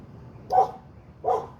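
Two short dog barks about half a second apart, moderately close over a low steady background hum, with no one talking.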